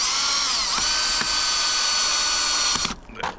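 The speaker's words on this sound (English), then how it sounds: "Plenty of room to get the drill in there, actually." A power drill whines steadily and loudly up close while bolting up a weather station install, running about three seconds before stopping, followed by a few faint clicks.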